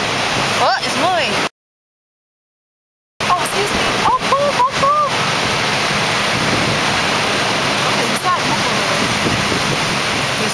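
A sand sucker pump draws water with a loud, steady broadband rush that runs throughout, broken by a short dropout, while voices talk over it.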